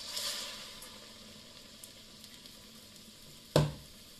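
Thulavada batter sizzles softly in hot oil, a faint continuous frying hiss with one sharp crackle near the end, no talking.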